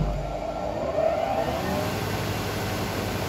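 Steady mechanical hum of a running Panhans 245 CNC spindle moulder motor, even and continuous at moderate volume with a slight swell near the start.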